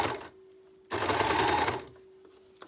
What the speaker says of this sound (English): it's just because we've got the overlocker that I can use this